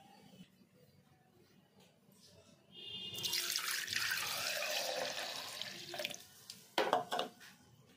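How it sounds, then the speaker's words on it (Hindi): Milk is poured for a butterscotch milkshake, making a steady splashing rush for a few seconds, then some quieter drips and clinks close by. "और इसमें हम दूध ऐड करते हैं।"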